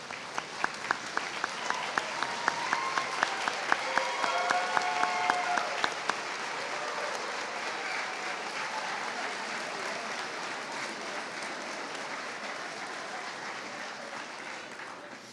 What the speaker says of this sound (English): let's please give these outstanding seniors not just a round of applause, but I think it's time for a standing ovation for all of our seniors